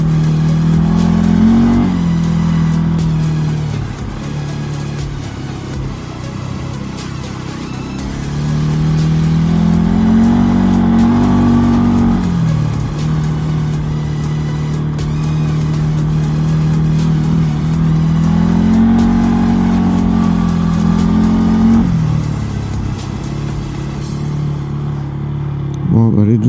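Cars driving along a road in Normandy, their engines rising and falling in long swells with revving passes, steady and fairly loud throughout under faint speech.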